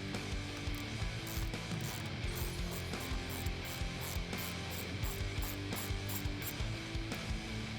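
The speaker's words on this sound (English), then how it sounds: "now we're going to be removing the 8 bolts that are on top of the bumper" Ratchet wrench clicking steadily as it backs out the bolts along the top of the bumper on a 2018-2019 Mustang during a grille swap, a dense run of close, rapid pawl clicks with no talking.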